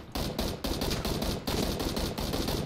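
Rapid bursts of automatic gunfire in PUBG Battlegrounds, loud and close, firing in several short volleys separated by brief pauses.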